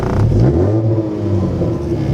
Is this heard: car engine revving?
yes